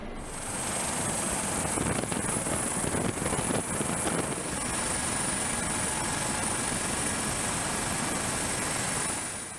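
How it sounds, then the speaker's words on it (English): A search and rescue helicopter flying, its rotor producing a loud, steady, continuous thudding roar with a high engine whine above it, constant throughout with no talking. "selected routes can be programmed so that the helicopter flies itself"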